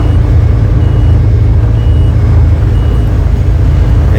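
A bus reversing beeper sounds loud and close in a steady repeating rhythm over a low idling engine rumble, with no voices.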